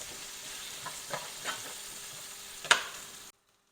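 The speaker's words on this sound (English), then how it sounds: "We have added our red hot chili peppers, so they're in there sauteing away as well" Onions and red hot chili peppers sautéing in a pan, a soft steady sizzle broken by a few brief stirring scrapes and one sharp clack before it cuts out.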